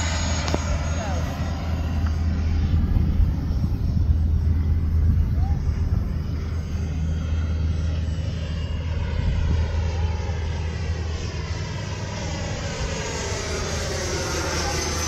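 An FMS F-86 80mm electric ducted-fan RC jet flies touch-and-go and landing practice, its steady whooshing roar sweeping past as it passes overhead and carrying on for the whole stretch.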